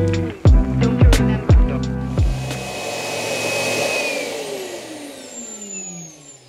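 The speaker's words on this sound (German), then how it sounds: "das war jetzt die Entleerung des Staubbehälters. Relativ laut, aber normal." The dock of a Roborock S8 Pro Ultra robot vacuum empties its dust bin with a loud, rising suction roar like a vacuum cleaner that keeps going steadily, following a few sharp beeping tones at the start.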